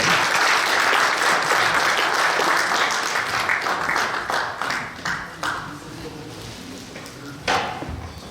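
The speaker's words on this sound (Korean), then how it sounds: "다시 한번 큰 박수로 축복해 주십시오." A church congregation applauds at a pastor's installation thanksgiving service: loud, dense clapping from a large crowd that thins and fades over several seconds, with a few scattered claps and a sharp knock near the end.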